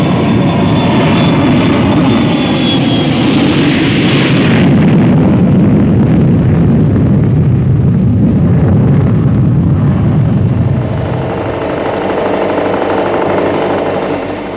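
A vibration tester shakes electronic equipment built for aircraft service, giving a loud, sustained mechanical roar with a high whine that drifts downward before the sound shifts and eases off toward the end. No one speaks.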